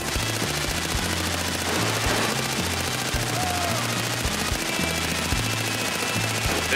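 Sustained automatic gunfire in the video game Far Cry 4, dense rapid bursts rattling continuously at close range under a pulsing low musical bass line, no speech.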